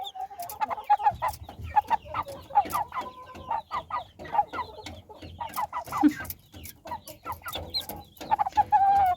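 40-day-old Ross 308 broiler chickens cluck and chirp continuously at close range, a busy overlapping chorus of short calls with occasional louder squawks.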